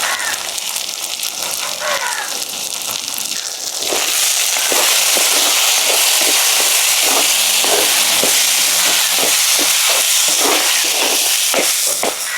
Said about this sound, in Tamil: இப்போ இதையும் போட்டு எண்ணெயிலேயே பச்சை மணம் போகிற அளவுக்கு வதக்கி எடுத்துருவேன்